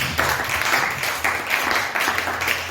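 A congregation applauding to acclaim the Lord at a church gathering, a steady wash of clapping in rhythmic surges, fairly close and continuous without talk.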